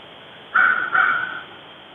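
Crows caw twice in quick succession, a pair of harsh, fairly loud calls over quiet background, with no talk.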